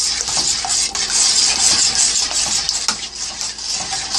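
Lasagna ingredients being stirred in a bowl, a steady close scraping and swishing with small clinks of utensil against the bowl.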